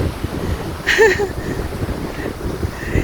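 Wind buffets the microphone at a breezy north-coast seaside while ocean waves wash in steadily, with a brief voice-like burst partway through.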